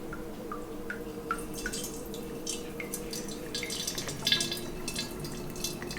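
Beer wort trickles and drips steadily into a strainer, with small splashes over a low background hum, fairly close and quiet.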